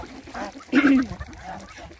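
Ducks and geese near flooded open water give a single loud honking call close by, with softer quacks and murmurs around it over a quiet background.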